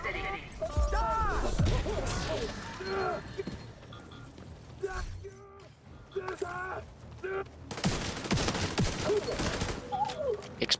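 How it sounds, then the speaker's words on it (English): Game explosions and gunfire-like bursts erupt in a chaotic video game scene, loud crashes recurring through the clip with a big blast near the end, under ongoing talk from players. "Explosion."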